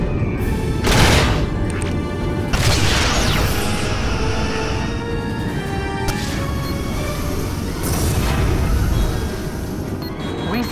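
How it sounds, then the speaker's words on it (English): Starship torpedoes fire in Star Trek: Legacy during a Romulan attack, several loud booming blasts with sharp swells over a dense, continuous roar of space combat noise. "Prepare torpedoes."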